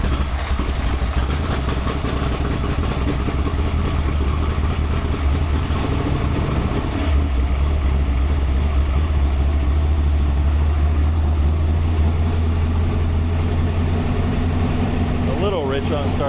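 A 408 stroker V8 runs loud and close, idling rough and rich on startup with a steady, throbbing rumble that continues without a break.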